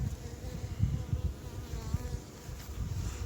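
Honey bees buzz steadily at an opened spring beehive, a low, dense, continuous drone heard up close with no voices.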